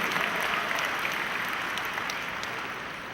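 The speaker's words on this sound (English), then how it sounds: "Please give him a big round of applause." Guests at an awards dinner give a sustained round of applause, a dense, even wash of clapping from a large room that holds steady and tapers slightly toward the end.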